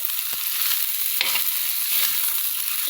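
Rice being stirred in a frying pan over a steady close sizzle, with a few scraping strokes of the spoon or spatula against the pan and no talking.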